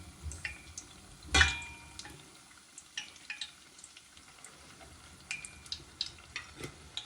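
Qatayef frying in a pan of oil make a soft, steady sizzle, broken by scattered light ticks and pops and one sharper clatter early on. The sound stays quiet and close.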